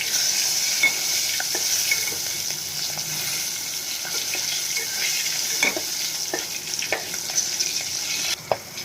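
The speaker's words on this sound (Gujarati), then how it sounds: "હવે આને થી ત્રણ મિનિટ માટે પકાવી લેશું આ રીતે તેલમાં" Chillies with a pinch of turmeric fry in hot oil, giving a loud, continuous hissing sizzle close by, with faint ticks of stirring throughout and no voices.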